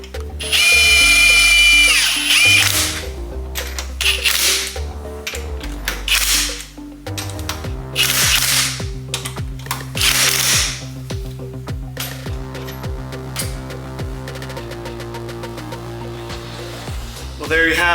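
Brake kit bolts on a GR86 are driven with a power tool in loud whirring bursts, then a ratchet clicks rapidly and steadily through the second half, close and prominent.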